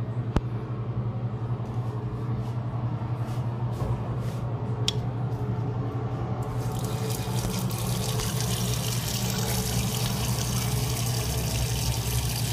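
Water runs steadily from a household faucet, a continuous dense rushing hiss that grows brighter and fuller partway through, with a low constant hum underneath.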